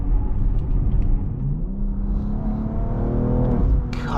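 A 2022 BMW X3 M Competition's engine pulls hard under acceleration, a loud, deep rumble with rising tone heard from inside the cabin, continuous throughout.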